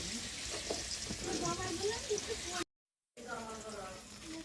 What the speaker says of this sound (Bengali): আর এদিকে হচ্ছে বেগুন ভাজা হচ্ছে